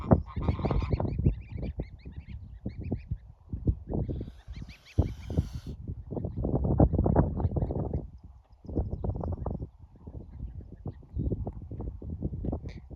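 A flock of geese honks continuously nearby, a busy chorus of overlapping calls, with a brief hiss or rustle midway.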